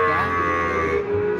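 A single cow lets out a long, loud, steady moo close by at a cattle market in Pracimantoro, Wonogiri, where breeding cattle of various kinds are sold.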